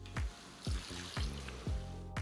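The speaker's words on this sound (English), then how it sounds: "so we're going to add in some of that pasta water." Starchy pasta water is poured into a pasta sauce for pasta alla zozzona, giving a close, steady trickle of liquid with a few louder gushing pulses and no talk.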